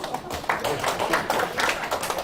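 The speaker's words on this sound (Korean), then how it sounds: "박수 한번 쳐드릴까요?" Audience applause during a Buddhist dharma talk on the Heart Sutra: a short, fairly faint burst of scattered hand clapping from the listeners, steady for a couple of seconds.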